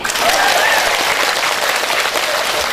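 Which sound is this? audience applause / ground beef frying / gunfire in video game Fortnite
audience applause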